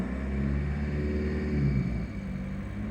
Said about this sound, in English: Just revving it up a little